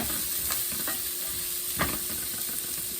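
One chopped onion frying in a pan for chicken paprikash, with a steady close sizzle and hiss broken by a few short stirring scrapes, no talking.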